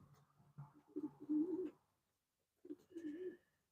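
Pigeons coo softly nearby in a loft in two low, rolling phrases separated by a short pause, in an otherwise quiet indoor space.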